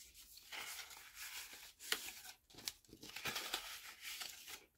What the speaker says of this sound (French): je vais venir faire marquer tous mes plis de partout